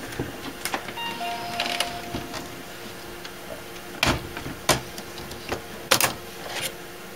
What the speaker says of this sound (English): It's just printing out totally blank pages.